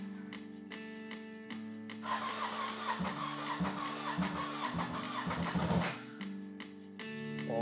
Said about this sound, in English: let's go ahead and grab the key and start this up